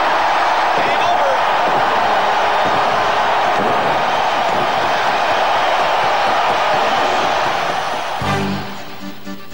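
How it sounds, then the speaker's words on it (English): Hockey arena crowd roaring and cheering loudly and continuously as Detroit ties the series at Joe Louis Arena, the roar fading near the end where a short thump is heard. "listen to this crowd"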